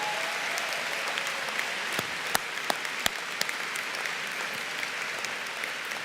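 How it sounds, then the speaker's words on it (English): A large audience at a law school commencement ceremony applauds steadily and loudly, a dense wash of clapping with a few sharper claps standing out. "Can we have another round of applause for them"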